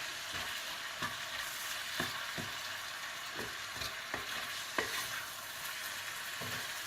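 Vegetables with harissa and a little ginger get stirred in a gently sizzling pan, with soft, regular scrapes and taps of a spoon against the pan every second or so.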